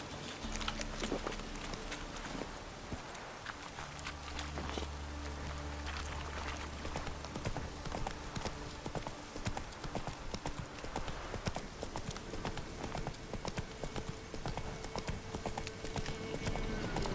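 Horse hooves clip-clop steadily at a walking pace in The Witcher 3, close and continuous over a dense game soundscape with occasional faint voice sounds.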